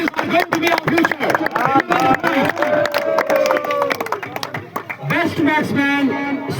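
Crowd at a post-match cricket award presentation for the Pulwama Premier League clapping and cheering, a loud busy wash of applause with voices mixed in, swelling again near the end.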